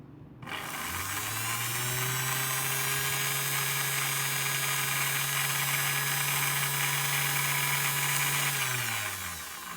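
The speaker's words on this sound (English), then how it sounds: "So the motor, it is spinning right, and I believe we have a working motor" A Girmi mini robot grinder's motor spins up, then whirs at a steady pitch for about nine seconds before winding down. Its hum is loud, constant and close, and no one speaks.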